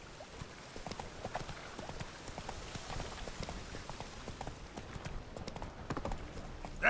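Roach the horse gallops in The Witcher 3, a steady rhythmic clatter of hooves on the ground, moderately loud and continuous with a faint patter beneath.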